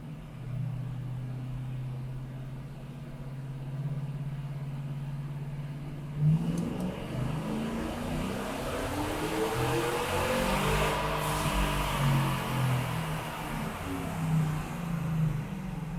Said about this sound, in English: we're bringing it up in second gear, that way we don't hit the speed limiter